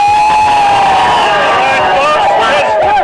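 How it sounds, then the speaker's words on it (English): A large crowd of Nepali cricket supporters at a Nepal versus Singapore match cheers and shouts loudly and steadily, close and continuous throughout. "Nepali supporters quite excitable, very, very loud"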